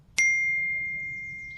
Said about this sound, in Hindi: इसी दौरान उसके फोन में घंटी बजी।